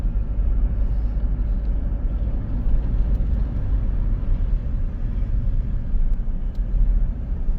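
A car drives Needles Highway in Custer State Park, South Dakota, a granite mountain byway through pine, birch and aspen, giving a steady loud engine and road rumble that stays constant throughout.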